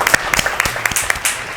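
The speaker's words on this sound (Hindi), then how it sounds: "आइए आप सबकी जोरदार तालियों में अपने बच्चों को वेलकम करते हैं" A studio audience on a children's TV show set claps to welcome kids, a short burst of loud, close, rapid claps with sharp individual hits.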